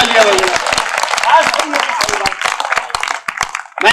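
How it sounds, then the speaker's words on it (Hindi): Audience clapping at a Hindi comedy and satire poetry stage event, sparse hand claps with crowd voices and talk mixed in, fairly loud and close. "जोरदार तालियां बजाएं।"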